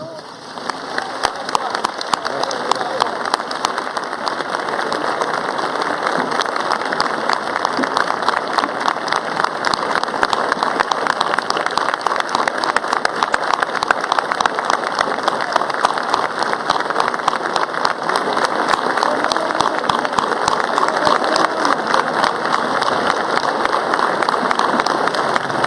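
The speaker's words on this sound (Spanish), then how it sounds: "yo solicito, señor presidente, un minuto de aplausos" An audience at a political speech gives a minute of applause, a dense, steady wash of clapping that holds at an even level for the whole stretch.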